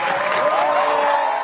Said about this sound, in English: More than 200 supporters waiting and cheering as the senator arrives home